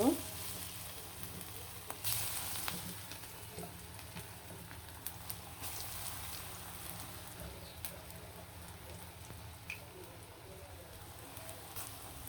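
Onion fritters (peyaju) frying in hot oil, a steady soft sizzle and crackle running throughout at moderate distance, with occasional faint stirring clinks and no talking.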